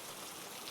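Continuous rain, a soft, even wash of falling drops that holds steady throughout at a low, soothing level, with no voices or other sounds.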